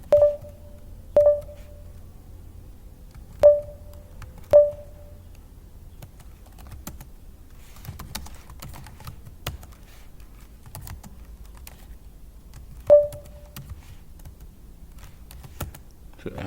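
Scattered keystrokes on a computer keyboard while typing commands in an Ubuntu terminal, soft clicks in irregular bursts over a quiet background, with occasional louder beeping tones.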